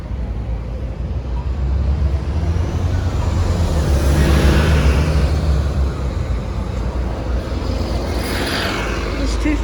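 Two double-decker buses on Sydney route 550 pass one after the other: a low engine rumble and roadway roar swells to a close peak near the middle, then a second pass follows toward the end.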